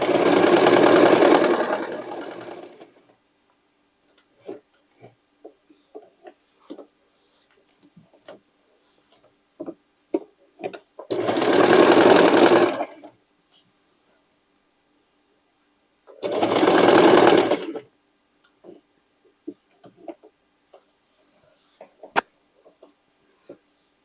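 Three loud, steady bursts of a sewing machine stitching sweatshirt fabric for a dress, each a few seconds long and close by, separated by quiet stretches of small ticks and clicks.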